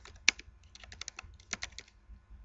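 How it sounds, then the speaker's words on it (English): Quick, irregular clicks of keys being typed on a computer keyboard, close and fairly quiet, with no talking. "I can hear you typing."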